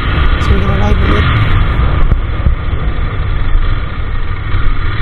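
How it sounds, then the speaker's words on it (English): Royal Enfield Interceptor 650 motorcycle engine runs continuously on a highway ride, a loud close droning rumble mixed with wind noise, with a voice talking over it. "just to feel the rhythm and how powerful the engine is"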